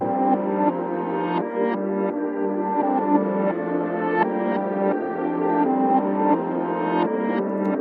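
A slowed, warm, filtered melody rolls along with soft chord hits every second or so, muffled top end giving it a vintage feel, no voices.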